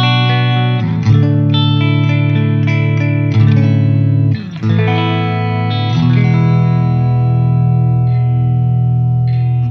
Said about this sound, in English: that's just the clean sound of the Mesa Boogie Mark 5 head